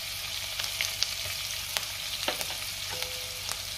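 Cumin, green chili and ginger-garlic paste fry in hot oil for pav bhaji, a steady close sizzle punctuated by sharp pops and crackles and a few light stirring scrapes, with no voices.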